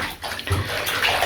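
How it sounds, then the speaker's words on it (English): Water from a tap runs steadily and close while metallic fabric hair pieces are rinsed under it, with a continuous splashing rush and no talking. "run them in water"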